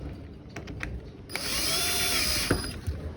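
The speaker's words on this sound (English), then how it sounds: "before we start hammering on it with the impact" An impact wrench bursts into a sustained whine on ring gear bolts, running steadily for over a second amid scattered shop clatter, then cutting off with a couple of short knocks.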